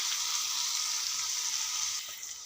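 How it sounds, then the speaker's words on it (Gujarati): Garlic paste sizzling as it fries in oil, a steady bright hiss that holds evenly, then softens slightly near the end, heard alone. "1 ચમચી લસણની પેસ્ટ એડ કરીશું અને થોડું લાલ થવા દઈશું"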